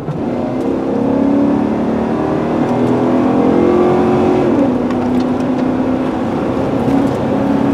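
A car accelerating while driving, its engine tone steady and rising in pitch as speed builds, a continuous loud interior drone with no talk.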